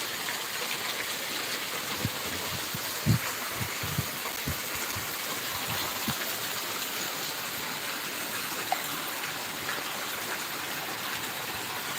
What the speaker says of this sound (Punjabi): ਮੀਂਹ ਜਿਹੜਾ ਪੂਰਾ ਤੇਜ਼ ਹੈ